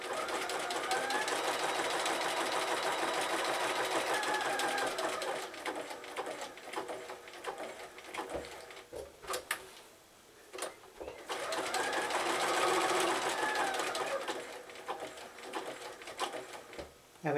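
A domestic sewing machine runs a zig-zag appliqué stitch in red thread, a fast steady whirring in two long bursts separated by a brief pause, close and fairly quiet.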